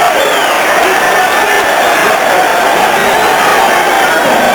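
A boxing-night crowd roars in a steady, loud wash of cheering that fills the arena without a break.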